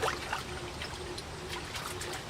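Bonsai roots of a Serissa foetida being swished around in a container of water, a steady close trickling and sloshing with small splashes throughout, no talking.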